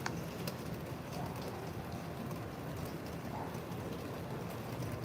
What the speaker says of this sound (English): It's actually raining right now, guys. We're getting a little rain here in Playa